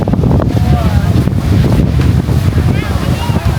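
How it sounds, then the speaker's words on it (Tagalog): Strong gusting wind buffets the microphone at White Beach, Boracay, with a roar of surf underneath and faint voices in the background. "Hangin."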